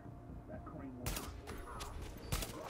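Gunfire in The Division, a quiet stretch that breaks into two sharp bursts of rapid rifle shots around a second apart, loud and close against a low game-ambience backdrop.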